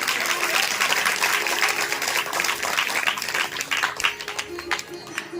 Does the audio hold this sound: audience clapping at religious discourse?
yes